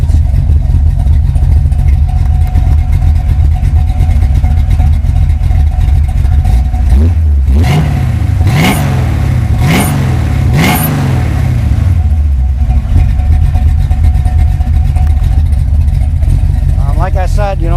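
A Mustang's engine idles with a deep rumble, then revs hard several times in quick succession, each rev rising and falling, before settling back to a steady idle.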